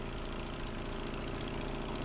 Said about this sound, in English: Both the pump and auger are powered by a gasoline engine.